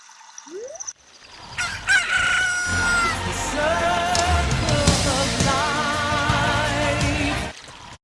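A cucco chicken in the Zelda Ocarina of Time video game crows loudly and clucks, a rising squawk followed by a long, bright, layered crowing call that fills several seconds before cutting off.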